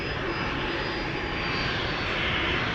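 A KLM Embraer 190 jet departs from Amsterdam Schiphol, a loud sustained roar of jet engines with a high whine, steady and building slightly, no voices.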